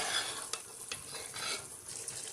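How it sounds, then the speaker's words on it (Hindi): Chickpeas roasting in a pan for chana pulao, giving a soft steady sizzle with a few scraping stirs, close by and fairly quiet. "अब मैं चनों की भुनाई करूँगी।"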